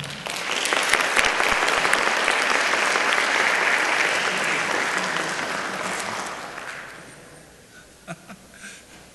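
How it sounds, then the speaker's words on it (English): A large conference audience claps loudly and steadily, then the applause fades out over several seconds, leaving a few scattered claps at the end. "Let's give him a warm round of applause."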